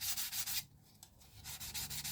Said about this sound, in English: this is a very light sanding